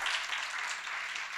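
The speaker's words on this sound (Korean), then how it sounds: "방송실 박수 한번 주세요" Brief applause from a church lecture audience, a short burst of scattered clapping heard from a moderate distance.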